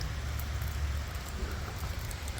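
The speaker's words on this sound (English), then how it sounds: "It's raining pretty good now" Heavy rain pours steadily during a thunderstorm in Valparaiso, Indiana, a dense continuous wash with a deep low rumble underneath, constant and fairly loud throughout with no voices.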